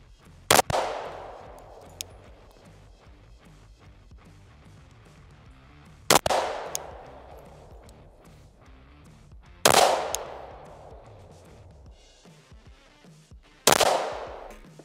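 Pistol shots ring out at an outdoor range during red dot sighting, four sharp loud reports a few seconds apart, each followed by a ringing echo decay, with no talk.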